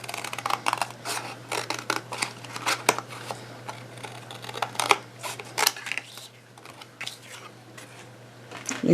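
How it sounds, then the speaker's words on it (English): Craft scissors snip through a recycled Christmas card in a quick run of close, crisp cuts, with short pauses between strokes and no one talking. "And just use some craft scissors and cut that out."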